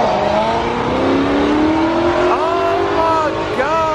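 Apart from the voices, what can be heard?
car engines revving loudly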